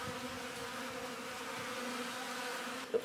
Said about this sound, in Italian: Guardate quante api ci sono, che bevono.